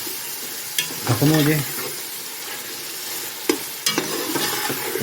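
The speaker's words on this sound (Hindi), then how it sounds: "हल्का इसको ही ब्राउन करेंगे चिकन को" Chicken leg pieces, 750 grams, fry in a pan for Lahori murgh cholay while being stirred, a steady broadband sizzle with scraping stirs; a short voice speaks briefly near the start.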